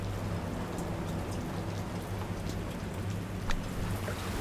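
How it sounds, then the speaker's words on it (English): Steady rain pours down as an ambient sound effect, a constant dense hiss of drops on surfaces with a low rumbling undertone, evenly loud throughout with no voices. "The rain never stopped."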